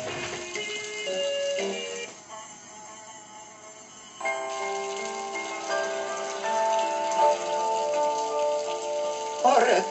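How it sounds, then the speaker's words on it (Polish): Steady patter of rain in the video game Maya the Bee: The Great Storm, with a soft tonal musical backdrop, the layers shifting a few times, no voices. "Orety, pada i pada"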